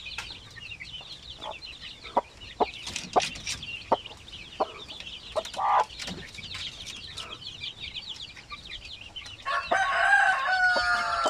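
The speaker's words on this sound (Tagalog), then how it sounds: "Itong ating mga sisiw." Native chicken chicks peep in a yard, giving a scatter of short, high chirps at irregular intervals, some overlapping, that become a denser, louder cluster near the end, with no talking.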